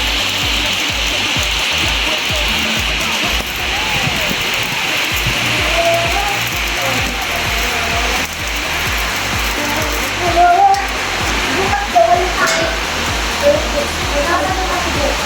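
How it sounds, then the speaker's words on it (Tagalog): Heavy rain pours steadily onto a house terrace as a loud, dense, continuous hiss with splashing, while a person talks intermittently underneath and a few louder knocks come late on. "Grabe man na ulan ito."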